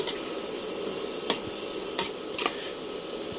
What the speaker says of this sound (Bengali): আমি সবগুলো সবজি সাঁতলে নিয়েছি